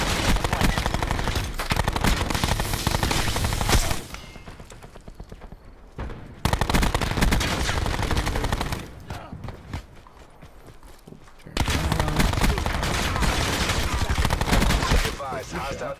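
Rapid automatic gunfire from the video game Call of Duty: Black Ops 4 rattles loudly in long bursts. Two brief pauses break up the shooting before it resumes at full intensity.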